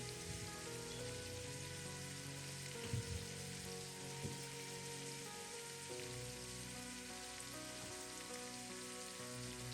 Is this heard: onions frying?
yes